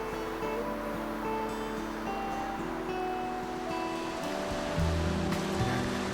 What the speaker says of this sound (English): A 100 miles of wilderness river.